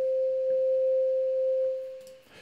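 A synth note looping through a Max for Live MIDI envelope holds as a steady, pure sustained tone for about two seconds, then fades out as softer clicks and noise follow.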